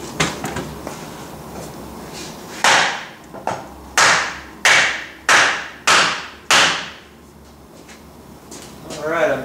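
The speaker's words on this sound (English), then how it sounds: "Get a chunk of wood and smack on the end of this guy." A chunk of wood smacks the end of a rake. About six sharp, close knocks land in a steady rhythm, each with a short ringing decay, after some quieter handling noise.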